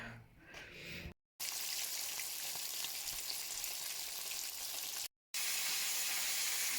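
Fish frying in a pan, a loud close steady sizzle and crackle of hot oil running without voices, cut by two brief gaps of silence.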